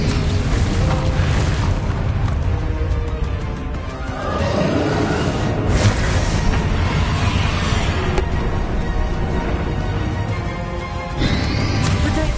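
A spell blast in Hogwarts Legacy, loud rumbling booms and bursts filling the whole stretch with magical whooshes and impacts, dense and continuous with no talking.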